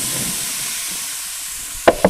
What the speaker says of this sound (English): Sizzle, sizzle, baby.